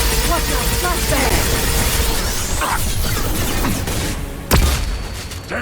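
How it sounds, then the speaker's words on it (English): Flashbang grenade going off during Mass Effect combat: a single sharp, loud burst late in the clip, cutting through steady background gunfire and battle noise, with voices in the mix. "Watch out! Flashbang!"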